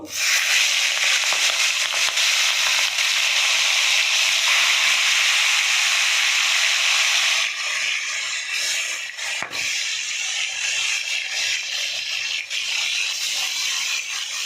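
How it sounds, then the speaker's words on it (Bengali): Fish frying in hot oil, with a steady, loud, dense sizzle and crackle that runs unbroken throughout, softening slightly partway before carrying on evenly, close up with no talking. "আমার তেল গরম হয়ে গেছে, আমি মাছগুলো ভেজে নেব"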